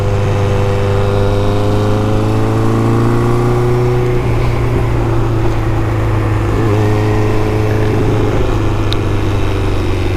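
A 1981 Honda CB900F's air-cooled 901 cc super sport engine runs close and loud, a steady droning idle whose pitch dips and rises slightly midway through.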